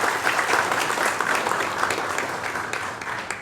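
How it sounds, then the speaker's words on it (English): Steady applause fills a gala dinner hall at a Sulu royal kingdom event in a Makati hotel, a dense wash of many hands clapping at an even, sustained level throughout. "Once again, good applause"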